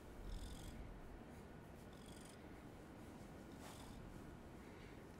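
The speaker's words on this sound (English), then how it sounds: "He's purring." A house cat purrs softly and steadily up close, a low continuous rumbling vibration with faint rustling above it and no talking.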